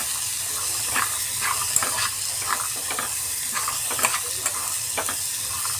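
Onion and chickpeas fry in a pan with a steady sizzle, interrupted by repeated soft scraping clicks as they are stirred. The sound is close and moderately quiet, with no voices.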